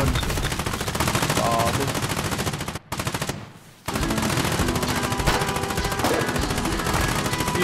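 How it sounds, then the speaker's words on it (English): Rapid machine gun fire crackles in dense bursts during a battle in the war video game Foxhole, broken by a brief lull before resuming loud and sustained, with a player's voice speaking briefly. "That's machine gun fire right there."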